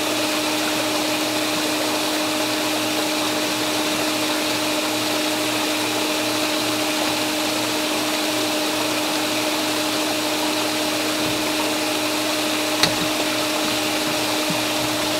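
An off-grid micro hydro turbine running during fine tuning, a loud, steady whirring hum with constant tones and a single brief click near the end.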